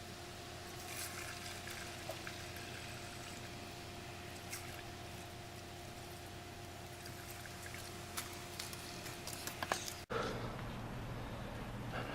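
Old fluid from a turbo 1UZ-FE track build drains into a container, a quiet, steady pour and trickle with faint splashy clicks, ending in an abrupt change near the end.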